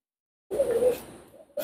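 A special-breed penguin Teddy pigeon gives a single soft, close coo lasting about a second, followed by the start of another, with no other sound around it.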